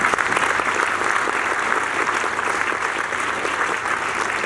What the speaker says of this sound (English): And I'd like for you all to please give her a round of applause.